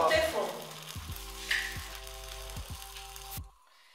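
An egg fries in a Teflon pan with no oil or fat, giving a steady close sizzle with soft crackles and a few faint scraping knocks before the sound cuts off abruptly.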